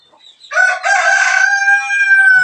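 A pet rooster kept on a house rooftop crows loudly and close by, a single drawn-out cock-a-doodle-doo rising after a soft cluck and holding its call for about two seconds.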